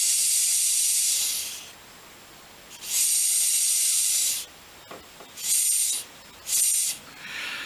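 Air hisses in bursts out of a valve on a Yamaha YDS6 motorcycle carburetor during cleaning, with two long loud blasts followed by several shorter bursts separated by quiet gaps.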